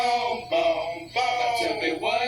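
A cappella vocal track pulled out of a full song by phase cancellation, singing voice alone with gaps between phrases and faint residue, moderately loud.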